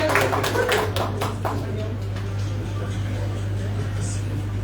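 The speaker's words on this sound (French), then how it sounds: "on les applaudit" An audience applauds at a Russia Day gathering in Mali. A short burst of clapping at the start fades within about two seconds into a quiet room with a steady electrical hum.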